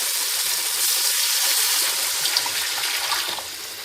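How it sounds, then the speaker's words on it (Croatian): Water poured into a pot of turmeric-fried base for vegan cauliflower soup, a steady broadband rushing splash that runs throughout, fairly loud and close, easing slightly near the end, with no talking. "I odmah dodajemo na to vodu"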